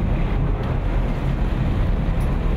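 Strong wind buffeting the microphone at a harbour while tugboats help a ship berth, a loud, continuous rumbling roar with no pauses.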